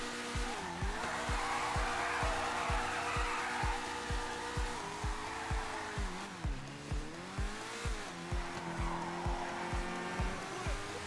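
A revving race-car engine in GTA 5 Online with a gritty, old-school growl, pitch rising and dipping as it shifts, with rhythmic pulsing and occasional tire squeal.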